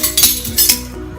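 Metal teaspoon clinking against a container while stirring a jelly powder mixture, a few light rhythmic clinks close up with no talking.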